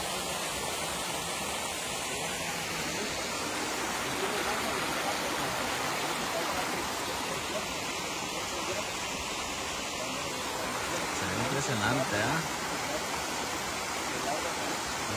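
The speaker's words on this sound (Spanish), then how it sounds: "Esta agua es la que llega hasta la cascada." Steady, dense rushing of falling water fills the whole clip, a constant broadband roar with no breaks, close and fairly loud.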